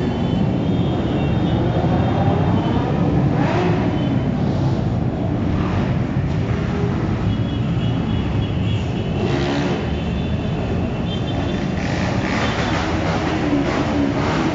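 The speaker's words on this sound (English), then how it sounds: "That noise you're going to hear is probably just about every motorcycle on the island." Motorcycles and scooters streaming past on a quayside street in Karavados, Kefalonia, as a steady, fairly loud wash of engine and traffic noise with several louder swells as bikes go by, no talking.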